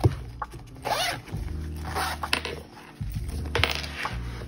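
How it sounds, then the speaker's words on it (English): Zipper on a binder case being pulled closed indoors, a series of close, loud scraping zips with short pauses between strokes, no talking. "So let me zip this up."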